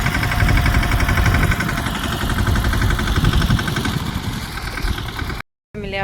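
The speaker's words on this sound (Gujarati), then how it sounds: "ટ્રેક્ટર।" A tractor engine idles close by in a farm field, a loud, steady low rumble with a fine rhythmic vibration that runs unbroken until a brief cut near the end.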